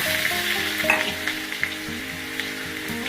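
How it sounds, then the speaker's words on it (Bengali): Onion paste fries in hot oil with a steady, close sizzle and crackle, broken by a few soft stirring clicks and pops, with no talking. "এবার এই তেলের মধ্যেই আমি দেব, যা তেল আছে এর মধ্যেই দিয়ে দেব পেঁয়াজ বাটা"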